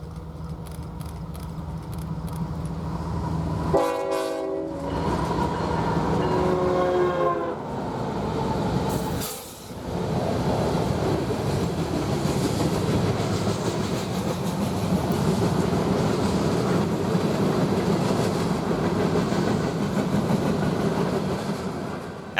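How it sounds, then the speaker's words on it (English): An eastbound manifest freight train rolls out of the huge North Platte, Nebraska rail yard with a steady, loud rumble and rail clatter, while its horn blasts with a harmonic chord early on, then the train keeps grinding past continuously. "while an eastbound manifest train rolls out"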